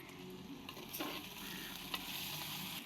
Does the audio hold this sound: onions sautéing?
yes